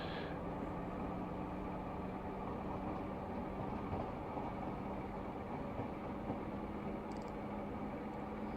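A DR73 ballast tamper rolls over a set of points in Train Simulator Classic, a steady low engine rumble with faint rail clatter and no voices.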